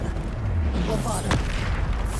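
A Bombarda explosion spell from Hogwarts Legacy bursts with a deep, heavy boom and a short rumbling tail, loud and close over dense game sound.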